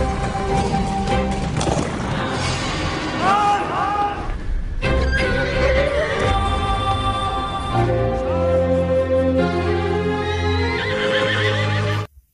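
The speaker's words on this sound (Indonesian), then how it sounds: "Saat itu seekor kuda mengamuk di halaman." A rampaging horse in a film scene neighs and whinnies repeatedly with clattering hooves and crashes, all beneath loud dramatic music.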